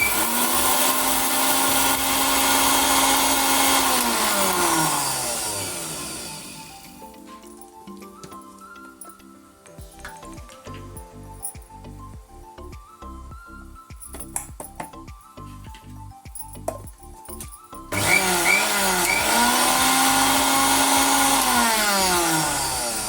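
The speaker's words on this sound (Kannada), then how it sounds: "ಇದು ಸಾಸಿವೆ ಮೆಂತೆಕಾಳು ಇತ್ತಲ್ಲ, ಇದನ್ನ ಮಿಕ್ಸಿ ಮಾಡ್ಕೊಂತೀನಿ" An electric mixer grinder pulverises dry mustard and fenugreek seeds for mango pickle. Its loud motor whine rises and falls in several bursts, with a stretch of rattling seeds and short pulses between the long runs.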